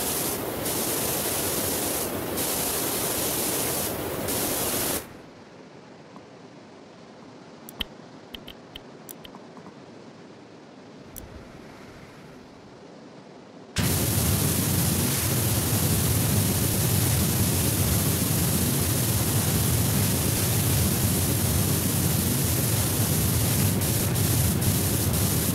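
Pressure washer with a red nozzle in the Power Wash Simulator game, a loud hissing spray that runs, cuts out for several seconds of near silence with small clicks, then resumes steady and close.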